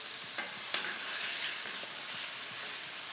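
Pilchard pasta sauce with sweet chili is stirred in a hot pan, giving a continuous sizzling hiss with a couple of sharp utensil knocks and soft scraping.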